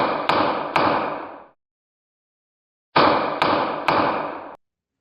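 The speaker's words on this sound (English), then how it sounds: "This is the sound of a gavel." A gavel bangs sharply on stage at a live comedy show in St. Paul: a loud group of three raps, a pause, then three more, each ringing briefly, with no voices.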